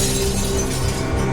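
Glass shatters loudly in a horror story, a dense continuous crash of breaking glass and tinkling shards lasting over a second, with no voices.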